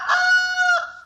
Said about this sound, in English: The rooster came in when he heard we wanted to use him.